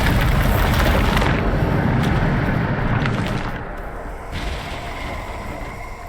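Bombarda blasting spell in Hogwarts Legacy, a loud sustained rumbling explosion that roars for about a second, then trails off into a lower lingering boom and debris wash.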